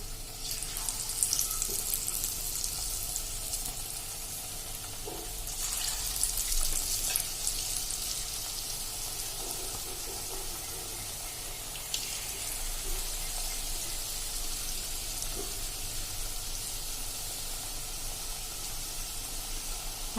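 Colocasia leaf bhajiya fry in a pan of hot oil on a medium flame, giving a steady close sizzle and crackle that swells whenever more pieces are dropped in.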